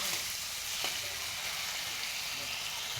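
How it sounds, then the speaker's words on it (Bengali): Meat frying in oil in a pan, a steady soft sizzle with a faint stir, continuous and fairly quiet. "মাংসটা কিন্তু কষানো হয়ে গেছে। তো মাংস দিয়ে দেখো তেল ছেড়ে দিয়েছে"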